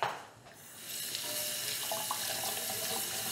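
Water is poured out into a kitchen sink, a steady hissing splash that starts with a brief knock and then runs on evenly and close by for a few seconds, with no one talking.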